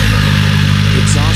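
A 2023 Kawasaki Ninja ZX-4RR inline-four superbike exhaust drones loud and close, a steady low engine rumble over a brief moment.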